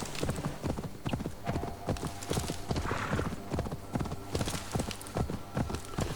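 Spotted horse galloping in Assassin's Creed Valhalla, quick rhythmic hoofbeats clip-clopping steadily and close, with a brief whinny partway through.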